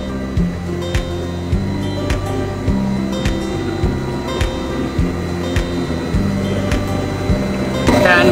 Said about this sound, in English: This is a Kyotechs testing machine